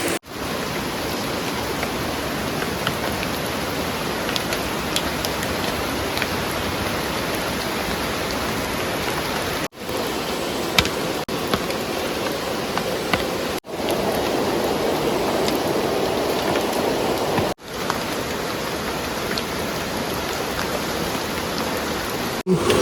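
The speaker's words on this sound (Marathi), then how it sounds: "पाऊस पडतो ना बाहेर एकदम जोरदार पाऊस पडतोय" Heavy rain pours steadily outdoors at night in a forest, a dense, continuous hiss with no voices and only a few brief dropouts.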